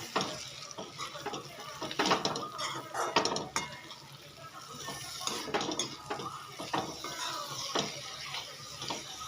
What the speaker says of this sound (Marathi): आणि सोबत सोबत भाजलेल्या शेंगदाण्याचा कूट पण घालते आपण एक ते दोन चम्मच छान परतून घ्यायचं